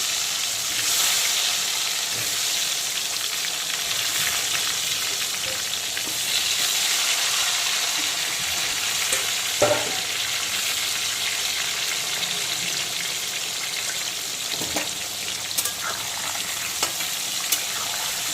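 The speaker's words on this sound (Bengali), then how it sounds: "আলুগুলোকে খুব ভালো করে ডুবো তেলে ভেজে তুলে নেব।" Salted, turmeric-coated potato pieces deep-fry in plenty of hot oil over full flame, a loud continuous bubbling sizzle with occasional stirring clatters and spoon knocks against the pot.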